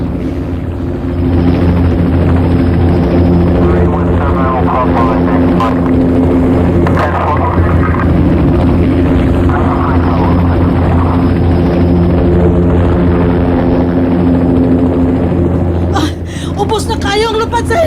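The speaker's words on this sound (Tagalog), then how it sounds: "Ubos na kayo ang lupad sa helikopter!" A helicopter flies low overhead, its heavy rotor and engine drone filling the air loudly and continuously, with voices shouting underneath the roar.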